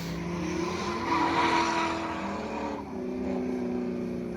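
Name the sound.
stock Nissan 240sx driving laps on a race track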